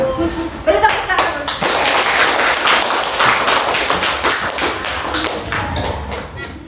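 Classroom applause from students during a teacher-training practice lesson, a dense burst of many hands clapping that stays loud and steady for several seconds, with voices mixed in.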